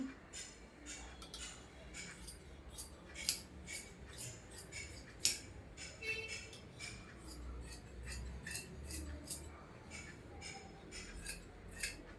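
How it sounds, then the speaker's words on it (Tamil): Scissors snip through old saree fabric in a quiet room, a series of crisp, close cutting strokes repeating at an irregular rhythm. "இதை வந்துட்டு அப்படியே வச்சு கட் பண்ணி எடுத்துக்கலாம்"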